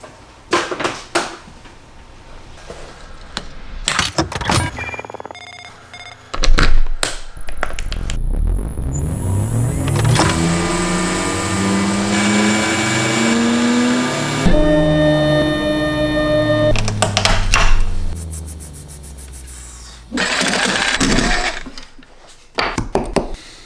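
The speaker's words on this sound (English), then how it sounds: "We're gonna drill out hole number 2, hole number 3." A power drill boring holes through scrap plywood for a coat rack: short clattering handling knocks, then a whining motor that climbs and holds in pitch for several seconds, with a second long run and more knocks after it.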